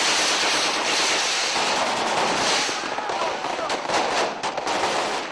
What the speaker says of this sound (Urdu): فائرنگ اور بھنگڑوں سے دل نہ بھرا تو پابندی کے باوجود آتش بازی شروع کر دی گئی